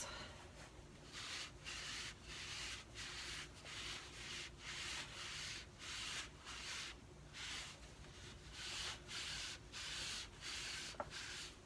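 A cloth wipes excess wax off chalk-painted furniture in a faint, steady run of soft rubbing strokes, repeated back and forth in a regular rhythm, with no voices.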